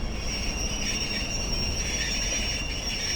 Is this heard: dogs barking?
no